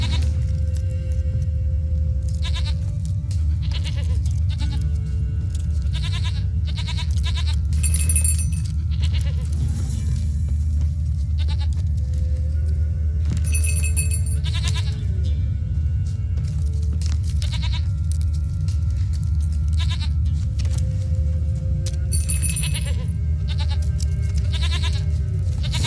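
Goat bleating in The Witcher 3: Wild Hunt, several drawn-out bleats repeating every few seconds over a steady low ambient rumble, close and clear with no talk.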